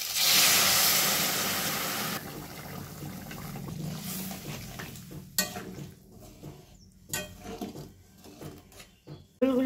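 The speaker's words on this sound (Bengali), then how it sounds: "এবার দিব গরম জল।" Hot water is poured into a pan of simmering Bengali fish curry, opening with a loud steady hissing rush that gradually fades, then scattered sizzles and light clatter of a utensil against the pan.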